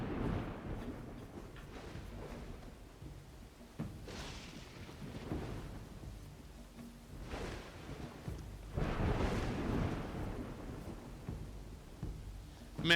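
Thunderstorm in the video game Dawn of Man: several deep rolling thunder rumbles swell and fade over a constant low wash of rain-like noise, with no speech.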